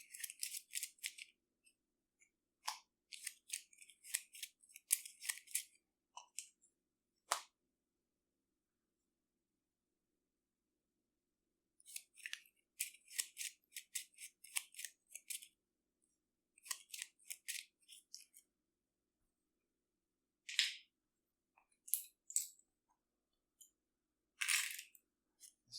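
Arkham Horror card game cards being shuffled on a table: several crisp, riffling bursts separated by quiet pauses, fairly close and moderately loud, with no talking.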